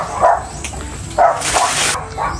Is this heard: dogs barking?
yes